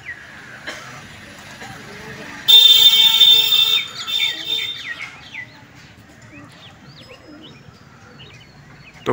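Pigeons released from a rooftop take off in a loud burst of wing flaps, followed by scattered chirps and coos fading as the flock flies off, with background noise throughout.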